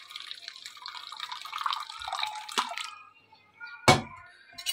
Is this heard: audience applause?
no